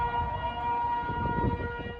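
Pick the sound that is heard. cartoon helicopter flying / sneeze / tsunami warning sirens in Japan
tsunami warning sirens in Japan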